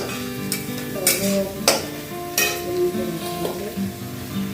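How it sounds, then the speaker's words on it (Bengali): Onion and garlic paste frying in oil in a pan while cooking a pabda (butter catfish) curry, a steady sizzle broken by stirring and a few sharp clinks of a spoon against the pan. "এরপর পেঁয়াজ রসুনের পেস্ট আমরা তেলের মধ্যে ভালো করে ভেজে নিচ্ছি"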